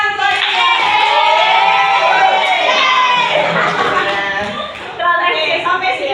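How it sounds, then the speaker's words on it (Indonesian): Children in a classroom applaud together, a dense burst of clapping mixed with excited voices and shouts that fades slightly before picking up again. "kasih tepuk tangan buat"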